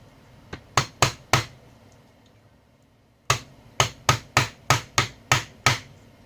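Sharp hammer blows strike a spoilt MOSFET's plastic package, three quick knocks, a pause, then a steady run of about ten evenly spaced hits, close and loud.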